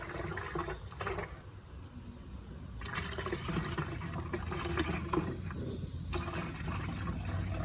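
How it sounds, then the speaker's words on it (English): Antifreeze is poured into the radiator of a Kawasaki Teryx 800 side-by-side, a steady close gurgling liquid stream that pauses briefly a few times, with a low rumble underneath. "Gonna go ahead and put some antifreeze in this rig."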